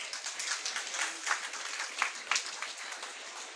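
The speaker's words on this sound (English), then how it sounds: "Applause, everybody." Audience at a school felicitation ceremony for Class X achievers claps for a student, a moderate, uneven patter of many hands with small peaks, fairly distant and steady throughout.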